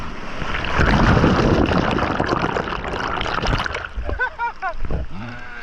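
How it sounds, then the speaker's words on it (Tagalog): Sea waves slap and splash around a small fishing boat on rough water, a loud churning wash that fades toward the end as voices and laughter come in. "Grabe ang alon ngayon, oh."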